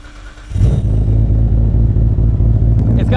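Nissan RB26 engine in a GTR starting up and settling into a loud, lumpy idle with a rhythmic low pulse, close by, with brief faint clicks near the end.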